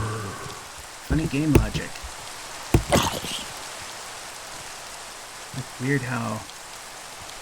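Steady rain falls in the blocky world of Minecraft, a soft continuous hiss that runs the whole time beneath intermittent talking.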